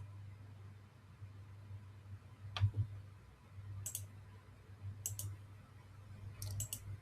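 Computer mouse clicks while navigating software, a few sharp isolated clicks spaced a second or so apart, some in quick pairs, over a low steady hum in a quiet room.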